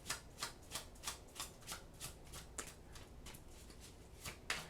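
Tarot cards being shuffled by hand during a reading, a soft rhythmic series of about a dozen crisp riffling bursts spaced evenly, close and fairly quiet with no talk over them.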